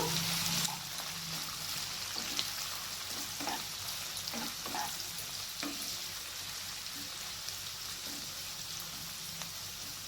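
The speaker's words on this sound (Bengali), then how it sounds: "পেঁয়াজটাকে আমি লাল লাল করে ভেজে নেব" Three sliced onions frying in a pan until reddish, a continuous soft sizzle with scattered light stirring clicks and scrapes, fairly quiet and without talking.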